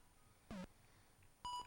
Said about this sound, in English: During most of the levels, there's just the very simple beep boop sounds.